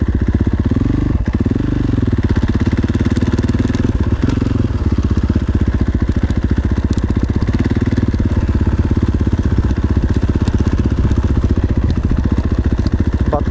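A KTM SX-F 450 dirt bike engine runs loud and close on a forest trail, a steady buzzing drone with revs that rise and dip and some mechanical clatter, continuous throughout.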